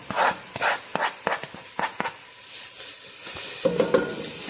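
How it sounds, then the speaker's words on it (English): Carrots sautéing in a pan for zazharka, soft sizzling broken by rhythmic scraping stirs of a spoon, close and moderately loud, with a few light clinks near the end. "I'm going to use only half of these carrots to saute, to create zazharka"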